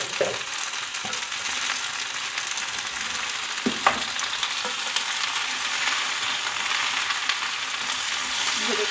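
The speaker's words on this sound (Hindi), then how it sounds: "अब इसमें मैं भिंडी ऐड कर दूंगी और इसको फ्राई कर लेंगे, भिंडी को भी प्याजों के साथ ही।" Okra fries with softened onions in a pan, producing a constant, close sizzle marked by a few sharp knocks and scrapes of stirring.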